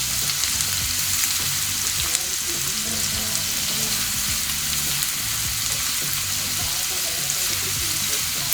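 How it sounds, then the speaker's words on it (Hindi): Chopped onions fry steadily in a hot pan until light pink for a chicken and potato roll, giving a dense, continuous sizzle with soft stirring scrapes, close and even throughout, with no talking. "प्याज को हमें हल्का गुलाबी होने तक के ही फ्राई करना है"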